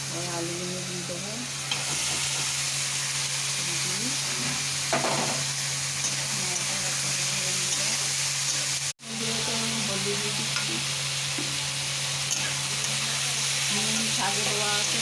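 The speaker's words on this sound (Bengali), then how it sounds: "একটা ভেজে নিচ্ছি। পেঁয়াজগুলো দিয়ে দেবো এর মধ্যে, রসুন দিয়ে দিলাম, আর আলুগুলো দিয়ে দেবো।" Onions, garlic and potatoes frying in oil in a pan, giving a steady close crackling sizzle with occasional stirring scrapes and a low hum underneath; one brief break near the middle, no talking.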